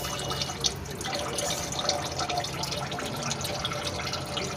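Transmission fluid trickles and drips steadily during a flush on a Toyota Camry, a continuous liquid splashing with small drip accents, fairly close and alone.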